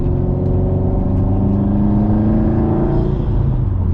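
A flex-fuel tuned Subaru accelerates under light to moderate throttle, its engine a loud, close, steady drone with rising harmonic tones that shift near the end.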